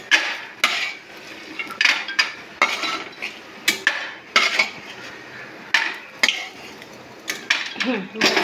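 Fried lentil dumplings (bori) scooped out of hot oil in a wok, heard as a steady series of close metal scrapes and taps of a utensil against the pan, with faint background sizzle.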